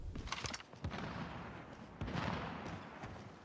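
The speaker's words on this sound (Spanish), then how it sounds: "Se escuchan disparos por allí" Distant gunfire in the video game Warzone pops and rumbles in a couple of bursts, faint and muffled over a steady background hum, with no talking.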